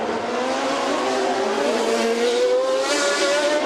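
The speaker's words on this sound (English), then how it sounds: "Piquet locks up the tyres." A 1990 Formula 1 car with a Ford V8 engine locks its tyres at the Phoenix street circuit, giving a loud continuous squeal with a rising pitch that sits over steady engine roar for the whole stretch.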